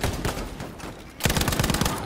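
Rapid bursts of SG-42 gunfire in a video game, a loud clattering fusillade that pauses briefly and then resumes more intensely.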